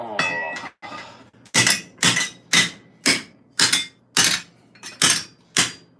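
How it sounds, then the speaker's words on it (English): A polished, round spherical hammer shapes metal armour with about nine sharp, ringing metallic blows in a steady rhythm, close and loud, after a few irregular opening strikes. "I use a hammer that is polished with a round spherical shape."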